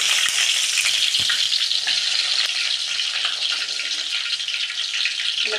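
Chopped ginger and garlic sizzle in hot oil in a pan, with mustard seeds already popped, giving a steady, loud crackling fry that runs throughout with a few stirring clatters.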